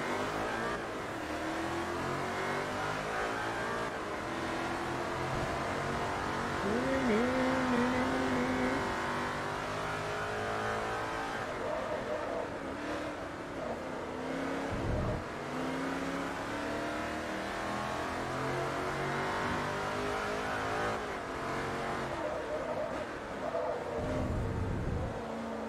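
Race car engines roar on the Road America circuit in Forza Motorsport 3, a continuous close whine rising and falling through gear shifts, with short throttle lifts and no talking.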